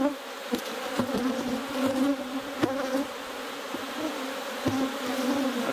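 Dense, steady buzzing of many honey bees around a hive, close by, with a few individual bees droning past louder now and then.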